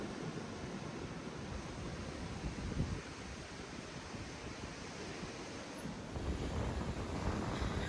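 Ocean waves washing onto a South Texas beach with wind buffeting the microphone, a constant surf roar that swells slightly near the end, with no voices.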